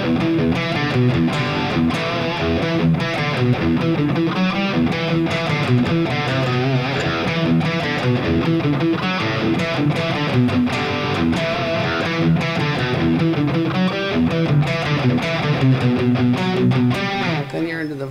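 A riff played on a distorted electric guitar in standard tuning at medium tempo, a steady, loud, driving pattern of palm-muted notes and chords throughout.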